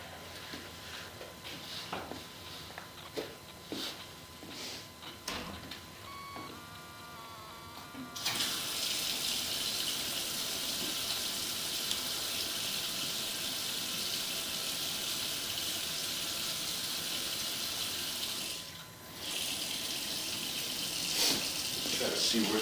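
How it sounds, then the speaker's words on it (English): A bathroom faucet is turned on and runs steadily for over ten seconds, a loud, even rush of water at close range, cut briefly partway through, after some quieter clicks and handling noises. "going to run a little bit of water in this bathroom here."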